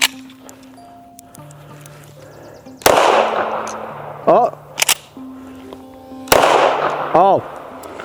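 Two sharp, loud gunshots from a Kel-Tec PR57 5.7 pistol firing subsonic ammunition crack several seconds apart, each followed by metallic clatter and ringing, with a speaking voice between them.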